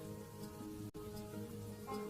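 Rain falls steadily on surfaces at a roadside dhaba in the early morning, a soft continuous patter that is faint and even throughout, with no voices.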